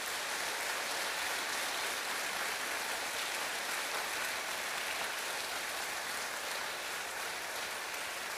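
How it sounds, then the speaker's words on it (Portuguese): Steady dense applause from a congregation at an evangelical military Easter service in Belém, filling the whole stretch with a broad, even wash of clapping and no pauses. "Uma salva de palmas para Jesus"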